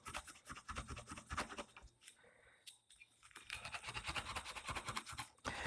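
Brillo pad scrubbed across the surface of a battery being refurbished, a close, busy scratchy rasp in rapid strokes, pausing briefly midway before resuming steadily.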